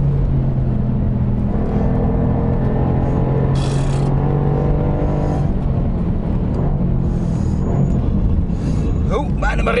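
Mercedes-AMG GT R Pro sports car accelerating hard on a race track, a loud sustained engine roar with shifting pitch and rumble under an excited commentator talking throughout.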